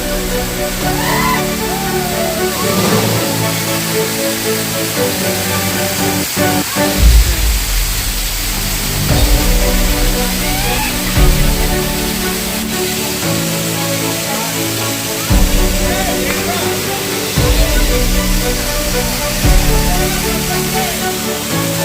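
The Dharapali waterfall rushes in a loud, constant broadband roar of falling water that continues unbroken throughout.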